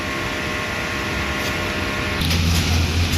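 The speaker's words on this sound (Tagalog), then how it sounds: "Punasan ng wiper after head clean." A DTF printer's wiper cleans the print head after a head-cleaning cycle. The machine gives off a steady, loud mechanical whir that swells into a heavier hum toward the end.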